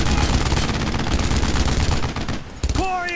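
Rapid gunfire from the video game Brothers in Arms: Road to Hill 30 crackles in a dense, continuous burst of machine-gun shots, then breaks off near the end as a voice starts talking.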